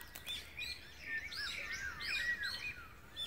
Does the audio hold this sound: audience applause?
no